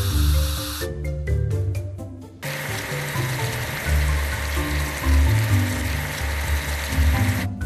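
A water spray hissing as it washes a big off-road truck in a children's construction video game, with short bursts at first and then a long continuous gush under game music.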